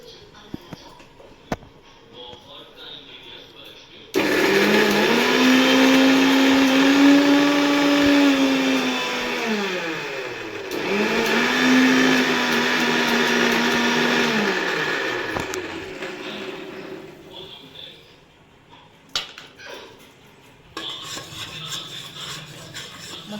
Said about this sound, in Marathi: आलं आणि ही कोथमीर टाकून मस्त असं वाटून घेऊ